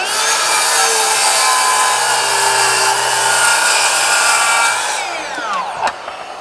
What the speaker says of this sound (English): Let's cut through this 3-inch piece of oak.